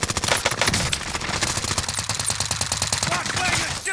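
Rapid automatic gunfire in a first-person shooter game, dense continuous bursts of sharp cracks close by, with a voice shouting over the shooting.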